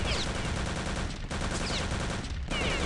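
Rapid automatic gunfire rattles on continuously in Return to Castle Wolfenstein, a dense, loud burst broken by two short gaps.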